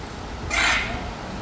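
A large parrot lets out a single loud, harsh scream lasting about a third of a second, rising sharply above a quiet background at Theater of the Sea in Islamorada, Florida Keys.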